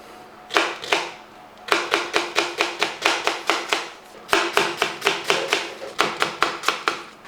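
A knife chops onions on a board in quick, evenly spaced strokes. The sharp, close taps come in three bursts separated by short pauses, with nothing else audible.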